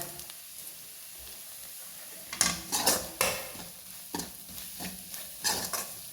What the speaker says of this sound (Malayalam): ഇതെല്ലാം കൂടി നന്നായിട്ട് മൂപ്പിച്ചെടുക്കാം പച്ചമണം മാറുന്ന വരെ ഒന്ന് നന്നായി മൂപ്പിച്ചെടുക്കാം